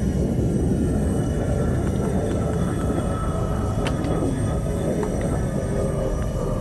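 Jet plane coming in to land in Arma 3: a dense, steady roar and rumble of engine and wind noise at constant loudness, with faint thin tones and clicks on top, no talk.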